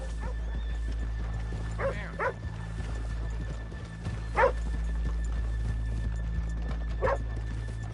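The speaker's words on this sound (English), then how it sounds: "let's leave the horses here off the main drag" Horses in the Red Dead Redemption II video game give several loud, short neighs and whinnies spread across the moment, over a steady bed of hooves clopping and low background ambience.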